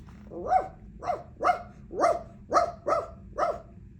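A dog barks seven times in a steady, evenly spaced rhythm while running around a farmhouse and barn, each bark clear and fairly close, with no talking around it.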